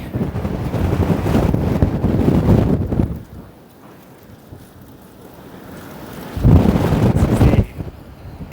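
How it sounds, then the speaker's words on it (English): Strong wind buffets the microphone in heavy gusts on a Toronto street, roaring loud at the start, easing off mid-way, then surging again near the end. "This is windy."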